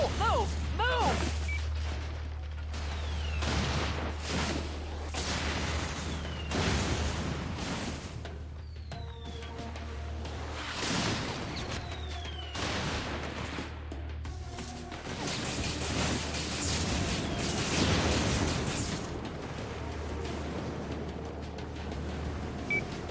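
Mortar fire and explosions roll through a battle in the video game Infamous 2, repeated heavy blasts and crashes with whooshes over a continuous rumble, while voices talk throughout.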